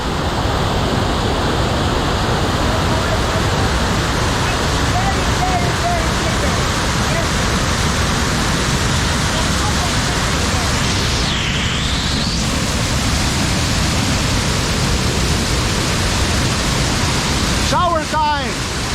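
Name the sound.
Tinuy-an Falls waterfall rushing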